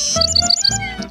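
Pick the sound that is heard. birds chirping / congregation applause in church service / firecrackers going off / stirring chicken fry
birds chirping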